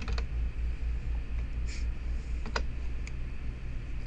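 Several sparse, quiet clicks of computer keyboard typing sit over a steady low room hum, with no talk.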